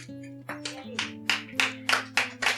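An audience at a Hindi poetry recital claps in a steady rhythm, sharp bursts landing roughly twice a second over a sustained tonal hum, with no talking.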